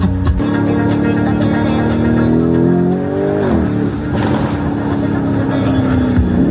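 SUV engine revving steadily under load, a loud continuous drone whose pitch climbs, dips briefly around the middle and then holds, heard close from inside the vehicle with no talk.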